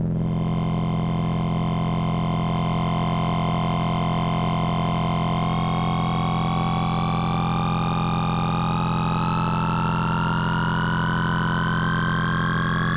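A Moog Grandmother synthesizer holds a steady, buzzy drone with its second oscillator engaged, giving three layered pitches; partway through, the upper tones glide slowly upward while the low tone stays fixed, loud and unbroken.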